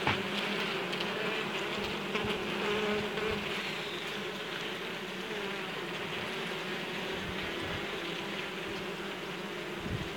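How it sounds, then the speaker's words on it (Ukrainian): Ligustica honey bees buzzing on their hive frames make a dense, steady, close-up hum that holds evenly throughout, with no voices. "Красиві бджолки."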